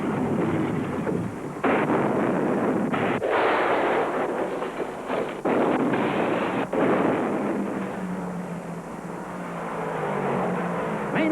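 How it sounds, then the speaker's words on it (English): A 1971 Ford NASCAR Grand National stock car, number 60, crashes at Daytona after running near 200 mph, a loud, jumbled sequence of heavy impacts and scraping bursts repeating over several seconds amid roaring race engines, then easing into a steadier din. "Troyer's Ford number 60 flips an incredible number of times."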